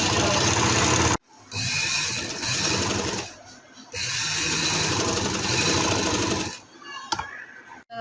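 A sewing machine stitches the hem of a kameez in three long bursts of close, steady whirring and clatter, separated by short pauses.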